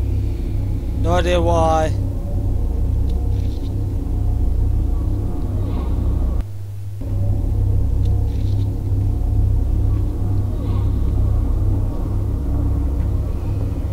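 A car engine idles roughly with a continuous low rumble and a regular uneven pulsing beat, briefly cutting out midway before resuming, while someone speaks briefly near the start.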